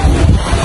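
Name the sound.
strong wind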